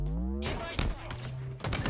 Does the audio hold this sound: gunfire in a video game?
yes